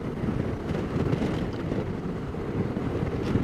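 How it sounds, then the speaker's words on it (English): Steady wind buffeting the microphone while riding a Suzuki V-Strom 650 motorcycle on a highway, a loud, continuous low rumble with gusty roaring throughout. "I just wish it wasn't so damn windy."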